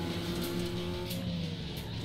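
Mazda RX-8 race car in Need for Speed: Underground 2, its rotary engine giving a steady, continuous droning hum at moderate volume for the whole stretch, with no talk.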